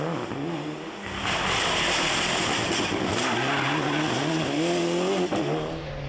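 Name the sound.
rally car driven by Armin Schwartz, Isle of Man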